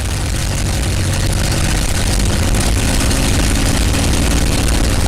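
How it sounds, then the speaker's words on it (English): A P-51 Mustang's piston engine roars loud and steady during a run-up prop check, a dense, constant drone close by with no talking. "I'm going to bring the prop back one time for a 400 RPM drop."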